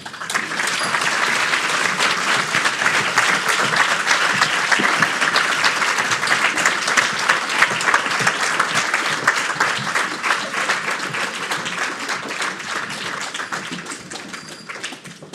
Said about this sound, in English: we applaud you as you come down.